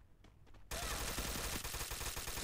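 Rapid, dense bursts of automatic gunfire in a shooting video game break in suddenly after a quiet moment and keep blasting loud and continuous for the rest of the clip.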